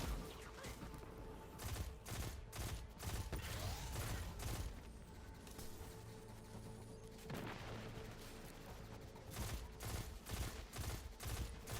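Rapid bursts of pulse rifle gunfire from a Warlock's weapon in Destiny 2, fighting Vex and Cabal enemies in The Inverted Spire Nightfall, crackling in repeated volleys with mechanical clicks and explosions between them.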